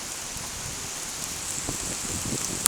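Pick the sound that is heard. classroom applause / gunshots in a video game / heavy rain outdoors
heavy rain outdoors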